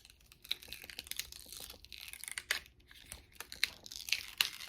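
Cut vinyl from a StarCraft Solo cutting machine is weeded, giving quiet, close crinkling and sharp little peeling and tearing sounds in irregular bursts.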